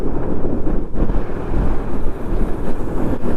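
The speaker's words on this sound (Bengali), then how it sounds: "বাপরে বাপ, হাওয়াটা দিচ্ছে দেখো, হাওয়া দিচ্ছে দেখো, গাড়ি একদম এগোচ্ছে না" Strong mountain wind battering a Yamaha FZS25 motorcycle on the Jomsom to Marfa road in Nepal: continuous loud buffeting wind noise over the mic with a low engine rumble beneath, no talk.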